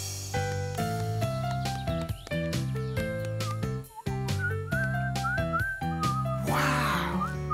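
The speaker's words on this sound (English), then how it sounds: "Wow, what a great whistler." Someone whistles a lively, bouncy tune over steady musical accompaniment in a Clifford cartoon, the notes clear and fairly loud.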